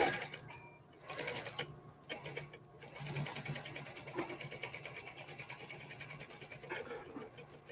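A sewing machine stitches thin fabric with a steady, close mechanical whir that runs almost without a break, with small changes in speed and a few brief pauses.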